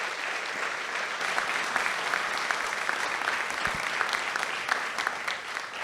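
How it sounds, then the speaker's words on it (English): An audience applauds teachers at a community breakfast event, a dense, steady clapping from many hands that carries on throughout. "So let's give our teachers a round of applause this morning."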